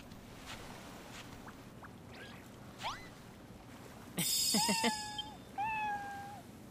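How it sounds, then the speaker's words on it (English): In Dragon Quest Builders 2, a cat gives two clear meows in the second half, each a bright drawn-out cry, following faint chirps over a soft ambient game backdrop with no talking. "Y'all didn't tell me there was a kitty cat in the game."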